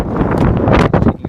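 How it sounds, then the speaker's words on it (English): Wind buffets a microphone outdoors beside a 2012 Ford Explorer Limited in a steady, rough low rumble, with gusts rising and falling throughout and no voices. "Sorry, it's windy today."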